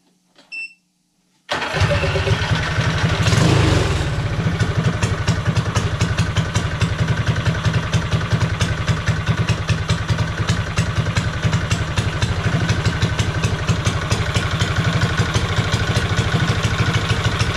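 A go-kart engine idling after its carburetor jet was drilled and cleared, starting up abruptly after a brief quiet moment and then running in a steady, close, loud putter with a fast even pulse.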